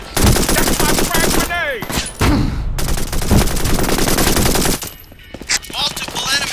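A mounted machine gun firing in the video game Brink, long loud sustained bursts of rapid shots with short breaks, game voices calling out over the gunfire.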